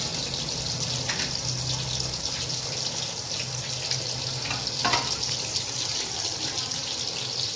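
Fish frying in a pan over medium heat for crispy fried fish, giving a steady, close, even sizzle throughout with a few soft pops and clicks.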